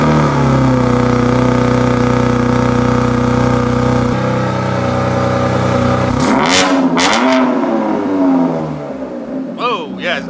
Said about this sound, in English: I mean, you want a cold start on my car?